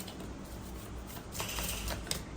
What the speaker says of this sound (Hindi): इसीलिए मैं दोबारा शफल करती हूँ